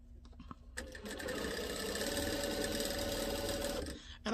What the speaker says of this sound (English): My machine is a commercial machine. A lot of people ask me about my machine. It's a Dirk Op Adler 281.